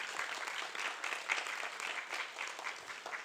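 An audience at an education talk applauds educators and therapists, a steady broadband wash of many hands clapping, moderately loud and continuous throughout, with no voices over it.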